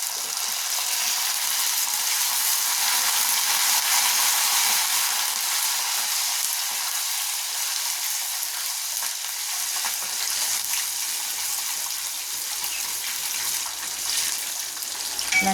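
Puliyogare spice mix frying with curry leaves in hot oil until golden brown, giving a steady close sizzle and crackle throughout, with faint stirring and no voices.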